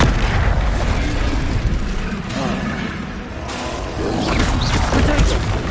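Incendio fire spell cast in the Hogwarts Legacy video game, with loud repeated booming, crackling bursts of flame and impact sounds filling the whole stretch.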